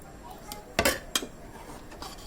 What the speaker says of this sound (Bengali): এখন শুধু নাড়তে থাকবো।